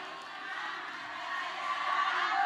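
An audience at an Islamic study gathering (majelis taklim) claps and cheers together, a steady wash of crowd noise that grows slightly louder toward the end, with some voices mixed in.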